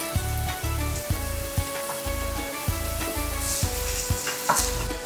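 Blended shallots and garlic fry in hot olive oil, a steady close sizzle broken every second or so by louder stirring scrapes, with no one talking.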